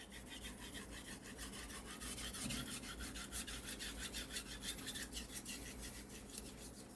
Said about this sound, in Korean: 최대한 이 날이 넘어가는 걸 확인해 주면서 갈아주시는 게 칼을 가장 오래 사용할 수 있는 방법이에요